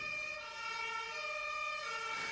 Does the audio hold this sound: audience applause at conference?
no